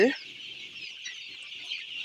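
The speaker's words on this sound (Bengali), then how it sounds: "এগুলো হচ্ছে সোনালি মুরগি হাইব্রিড জাতের একটা হাইব্রিড জাত এটা" A flock of 24-day-old Sonali hybrid chickens keeps up a dense, continuous high-pitched chirping and peeping, close and steady, with a brief louder sound at the very start.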